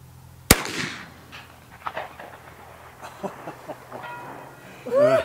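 A single sharp rifle shot from a .40-65 Remington Rolling Block cracks loudly near the start, followed by a fading echo, faint rustling and some low distant sounds.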